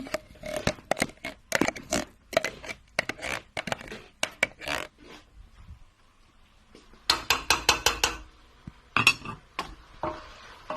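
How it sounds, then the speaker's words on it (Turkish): A metal spoon stirs tomato paste into a pot of tas kebab, making rapid, close clinks and scrapes against the pot in busy bursts. There is a quieter pause midway before the stirring resumes. "Tekrar karıştırıyorum."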